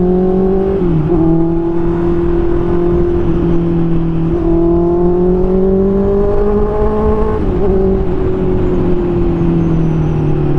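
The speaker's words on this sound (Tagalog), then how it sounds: "Let's test this CB650R." A Honda CB650R motorcycle being ridden, its engine droning steadily and loud with slight rises and dips in pitch as the throttle shifts, continuous for the whole stretch with wind rush underneath.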